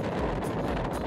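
Strong wind buffets the microphone in a steady, rumbling roar with no pauses, loud and close.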